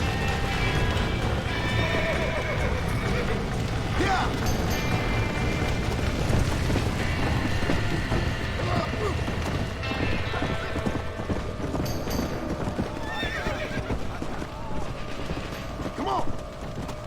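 Several horses gallop in the Western video game Red Dead Redemption, with steady rapid hoofbeats, occasional neighs and rattling tack over continuous game ambience, loud and close for the whole stretch, no talking.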